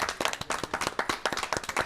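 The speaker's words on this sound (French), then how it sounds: "On peut applaudir à cette émission." A studio audience on a French automobile TV show claps in a quick, dense burst of applause, close and lively, with no talking over it.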